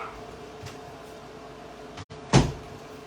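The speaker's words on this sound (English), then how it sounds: "I'm going to shut my door." A door being shut indoors: one short, solid thud near the end after a quiet stretch with faint soft knocks.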